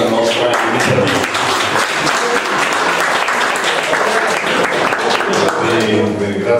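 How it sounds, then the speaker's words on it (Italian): Audience applause at a conference on sundials, a dense, loud, sustained clapping from a large crowd filling the room throughout. "Vi ringrazio dell'applauso"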